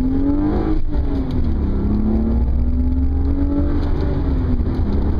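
A 1998 BMW M3 engine revs up hard and accelerates from a stop, its rising drone loud and close, holding a strong steady roar with a slight waver in pitch.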